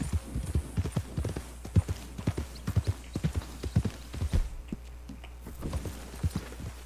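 Horse hooves clip-clop steadily in the Red Dead Redemption 2 video game, a brisk rhythmic beat of close, fairly loud hoof strikes on hard ground that briefly slows before picking up again, with no talking over it.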